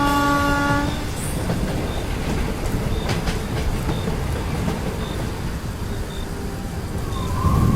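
A train passing as a cartoon sound effect: a brief horn blast at the start, then a loud, continuous rumble with rhythmic clatter as the cars roll by.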